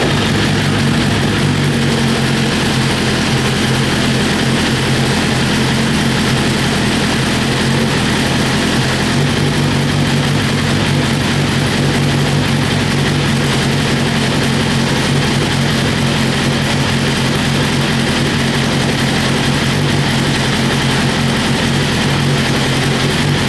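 Rebuilt, crash-damaged BMW S1000RR motorcycle engine running steadily with a dense, continuous drone and no throttle response, holding one even level from start to finish with no voices.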